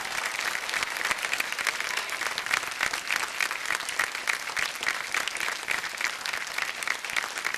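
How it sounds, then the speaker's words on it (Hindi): Loud, sustained studio audience applause on the Indian quiz show Kaun Banega Crorepati, dense clapping filling the whole stretch evenly without a break. "जोरदार तालियां बज जाए इनके लिए।"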